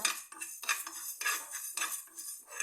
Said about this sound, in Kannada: ನಾಲ್ಕು ಸ್ಪೂನು ಜೀರಿಗೆ ತೊಗೊಂಡಿದ್ದೀನಿ ಚೆನ್ನಾಗಿ ಹುರ್ಕೊಳ್ಳುವ